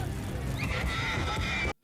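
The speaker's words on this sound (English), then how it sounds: "Oh my god, that poor horse." A horse whinnies amid battle noise in a Game of Thrones episode, a shrill neigh rising over a dense rumbling din before the sound cuts off abruptly.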